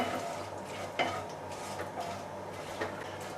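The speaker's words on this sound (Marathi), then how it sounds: "फक्त तुम्ही जिऱ्याची फोडणी करू शकता थोडंसं परतून घेऊया" A spoon stirs a cumin and curry leaf tempering in a pan. Soft scraping and a few sharp clinks against the metal sit over a steady low frying hiss, with no voices.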